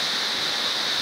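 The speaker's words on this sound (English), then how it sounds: "This is a river." A river in the Blue Mountains rushes in a steady, broad hiss of flowing water, close and continuous with no talk.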